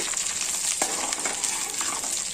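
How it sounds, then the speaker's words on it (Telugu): Tempering spices fry in hot oil for rice-flour upma, giving a steady, close sizzle with scattered pops and scraping stirs. "ఈ పోపులు దోరగా వేగాలి"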